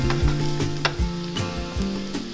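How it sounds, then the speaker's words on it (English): Red onion, green onion and garlic sautéing in a hot pan, a loud constant sizzle with repeated scraping stirs of a utensil against the pan. "I'm gonna saute all of this until the red onion starts to get pretty soft"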